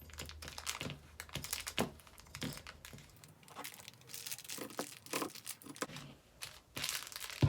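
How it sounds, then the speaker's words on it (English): Pinking shears trimming around the edges and corners of a sewn fabric baby gift, giving a rapid series of close, crisp snipping and rustling sounds with short pauses, no talking. "now we're going to trim all around with some pinking shears"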